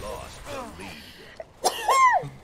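One quick sneeze bursts out close and loud, preceded by a short intake of breath, with people chatting just before it while playing Halo Infinite.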